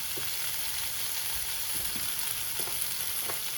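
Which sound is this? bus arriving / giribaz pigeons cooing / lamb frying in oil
lamb frying in oil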